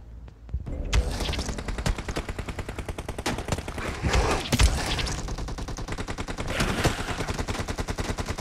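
Sustained automatic gunfire in a zombie-mode video game, rapid loud shots rattling almost without pause for several seconds, close and dominant with no talk over it.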